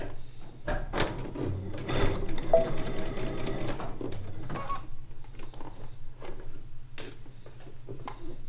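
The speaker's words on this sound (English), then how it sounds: "Now I'm sewing." A sewing machine stitches quilt pieces for a log cabin quilt top, whirring in a steady run for a few seconds, then pausing and starting again with short bursts and clicks, close and clear.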